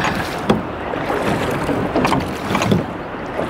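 A small boat moving through water in Japan, with steady broadband wash and wind noise and a few louder splashy surges, no voices.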